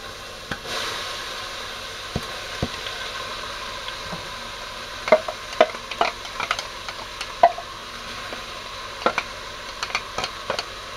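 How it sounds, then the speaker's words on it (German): Onions tipped into a pot of frying bacon for Kesselgulasch, a soft steady sizzle under scattered sharp ticks, pops and stirring clinks that grow busier partway through, close and fairly quiet with no talk. "also tun wir jetzt die Zwiebeln rein"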